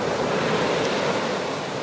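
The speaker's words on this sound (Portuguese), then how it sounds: "É passar o tempo na praia a ver o mar" Ocean surf rolls onto the beach at Nazaré in Portugal, a steady broad wash of breaking waves mixed with wind noise on the microphone, with no voices.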